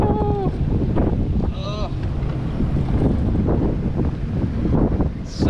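A Sea-Doo personal watercraft skims open water while fishing for bull redfish, with loud wind buffeting the microphone and continuous water rush throughout, and a man briefly calls out.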